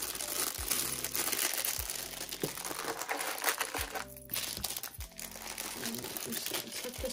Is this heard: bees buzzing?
no